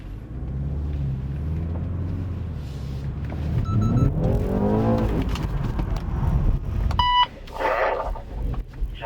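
BMW car pulling away during an oversteer driving exercise, a close engine rumble rising as it accelerates, with a few short electronic beeps and no talk.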